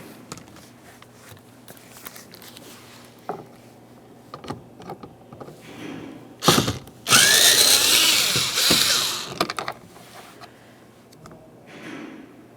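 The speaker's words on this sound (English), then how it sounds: "behind that area, you're going to find that you have a Phillips head screw. Remove it." Power screwdriver backing a Phillips head screw out of the interior rear door trim of a 2006-2011 Honda Civic; faint clicks and handling noises lead to a close whirring run of about two seconds, then quieter rattles.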